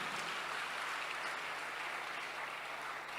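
A church congregation cheers and applauds the Lord, a dense, steady wash of clapping and crowd noise filling the space without a break.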